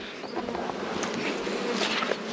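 Honeybees buzz steadily around an open beehive while nucs are being split from it, a dense, constant insect drone that stays close and fairly even throughout, with no talking.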